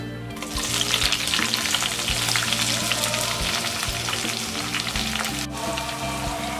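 Chopped onions and green chillies hit hot oil seasoned with mustard and cumin seeds for cabbage fry, bursting into a loud, dense sizzle that carries on steadily close by, with occasional stirring and no talking.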